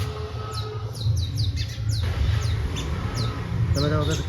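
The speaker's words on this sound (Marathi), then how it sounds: "चिमण्या बसल्या होते पुढे तेव्हा खेळता आहे" Sparrows chirp in a quick, scattered series of short high notes over a steady low rumble outdoors at about six in the evening, with a few other bird calls near the end.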